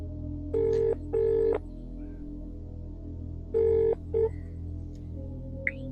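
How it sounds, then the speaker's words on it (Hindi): A telephone dials and rings in a Hindi suspense drama, with two pairs of clear electronic ring tones over a low steady hum and a few faint beeps in between. "खबरीलाल को फोन करता हूँ"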